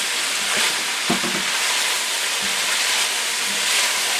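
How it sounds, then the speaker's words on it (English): Beef sausage pieces sizzle with vegetables in a hot pan, a loud continuous frying hiss with occasional soft knocks and stirs, close up and without talking. "Alright, we'll let that simmer in there with the veggies."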